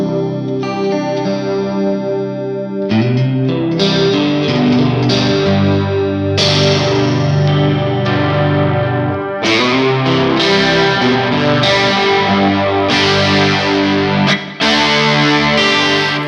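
A Neunaber Immerse reverb pedal on electric guitar with its detune effect at full, giving a wide, shimmering, chorus-like wash over sustained strummed chords that ring and overlap for several seconds, loud and continuous with no talking.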